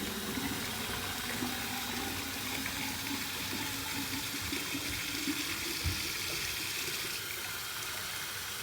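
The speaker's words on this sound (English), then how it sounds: "Here's my warm water rinse." Warm tap water runs steadily from a faucet for a rinse after shaving, a continuous close hissing splash with no talk over it.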